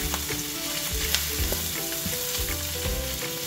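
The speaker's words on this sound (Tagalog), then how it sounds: "Saute." Mung beans and cabbage sauté in a pan with a steady, close sizzle and occasional stirring scrapes, no voices over the cooking.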